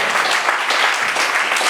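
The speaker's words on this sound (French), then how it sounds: "Applaudissons le roi des rois." A church congregation at a Sunday worship service bursts into dense, steady applause, close and loud throughout the short burst.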